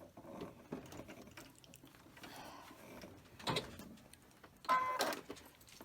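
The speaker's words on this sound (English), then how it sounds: "now I'm going to sew all along here" A sewing machine stitches along the edge of a rice-filled fabric hand warmer, a steady mechanical whir with ratcheting clicks that stops and restarts, with a louder burst near the end.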